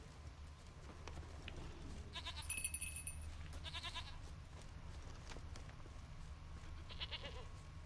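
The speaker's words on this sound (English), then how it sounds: "Here, goat." A goat bleats faintly in The Witcher video game, with a couple of short, thin calls over a low, steady background hum.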